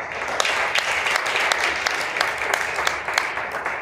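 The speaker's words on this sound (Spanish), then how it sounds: "Denle un aplauso" Church congregation applauding during a worship service, a steady dense wash of many hands clapping with sharper individual claps popping through, continuous and fairly close throughout.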